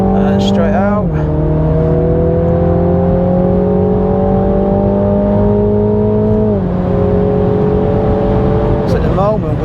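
A New MINI GP3 driven fast around the Donington track, its engine droning loud and close with steady high revs and a couple of sharp gear shifts, while a voice talks over it.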